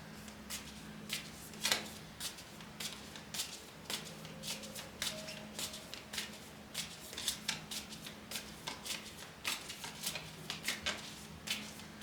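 Oracle cards shuffled close by, with repeated crisp flicks and papery slaps at an uneven, steady pace over a faint background hum.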